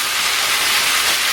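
Cumin beef sizzles in a pan over high heat, a loud, steady, broadband hiss that stays constant and close for the whole moment, with no talk over it.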